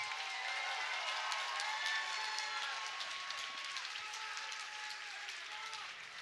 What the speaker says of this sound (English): let's have a round of applause for one hell of a fight